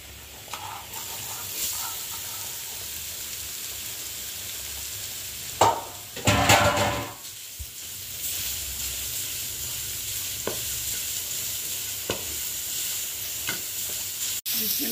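Carrots dropped into hot oil and stirred in a pan while making patties, a soft continuous sizzle with one louder burst of frying and occasional utensil clicks.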